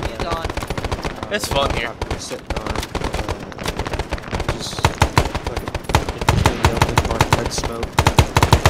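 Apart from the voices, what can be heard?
gunfire in video game Arma 3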